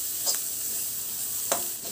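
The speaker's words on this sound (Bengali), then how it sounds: "দিয়ে দেবো লঙ্কা কুচানো, দিয়ে সব আবার একটু ভেজে নেব" Chopped green chillies frying in a pan for mixed fried rice give a steady, soft sizzle, broken by two brief stirring scrapes near the start and end.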